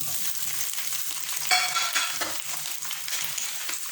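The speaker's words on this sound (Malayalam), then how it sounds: "പനീർ ജസ്റ്റ് ഇതിനകത്തൊന്ന് സോട്ട് ചെയ്തെടുക്കുക" Fried paneer sautés in hot virgin olive oil for a paneer mushroom salad, giving a steady, close sizzle with bursts of stirring scrapes and no voices.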